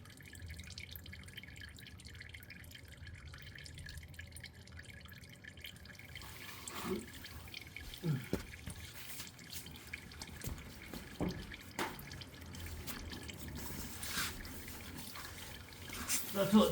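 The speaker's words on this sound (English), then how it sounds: "let it drain until it still dripping. The moment it starts dripping, it's just like drops of oil." Engine oil dripping from the drain of a 2024 Lexus RX 350 during an oil change, faint scattered drips growing a little louder toward the end over a quiet background, no talk.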